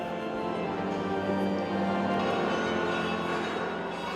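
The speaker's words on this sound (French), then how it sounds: "Orgue et cloche l'annoncent." Church bell ringing at Easter Mass in the Holy Sepulchre, Jerusalem, a steady sustained peal blended with organ in a reverberant space, continuous and fairly loud throughout.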